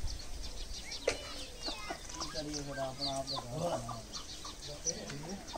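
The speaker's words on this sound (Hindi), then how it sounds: "ये इन्होंने एक मुर्गा रखा हुआ है" A rooster and chickens cluck near and far in a busy outdoor desert village setting in Pakistan, with people talking and background chatter throughout.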